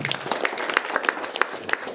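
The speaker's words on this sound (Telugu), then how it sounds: "క్లాప్స్ కొట్టొచ్చు" Scattered claps and applause from a seated audience at an ADMS meeting in Parigi, a sparse spatter of hand claps lasting a couple of seconds, fairly close.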